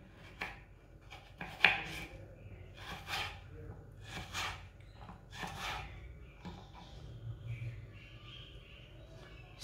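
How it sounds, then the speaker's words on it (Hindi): Potatoes being cut by hand into long chip-style pieces with a knife, giving quick, close chopping taps and scraping sounds in an irregular rhythm, with faint background noise. "आलूओं को ना लंबे पीसों में काट लेना है।"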